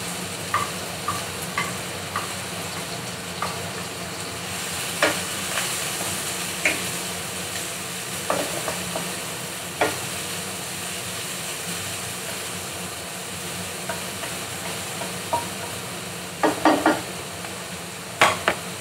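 Chopped onion sizzles and fries in a pan as a first step toward steamed okra with salted vegetable and dried prawns. The frying hiss is loud and continuous, broken by occasional scrapes and knocks of a utensil stirring.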